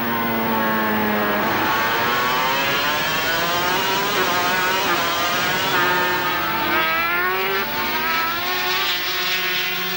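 A 1992 500cc Grand Prix racing motorcycle engine heard onboard at full power, climbing through the gears in loud, continuous rising wails with sharp shifts, close and alone with no talk throughout.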